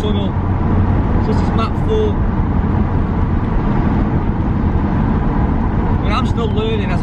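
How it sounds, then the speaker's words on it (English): An Audi quattro running a tuned performance map drives along, its engine and road noise forming a loud, steady roar from inside the car, with someone talking over it. "still learning as I'm driving this car"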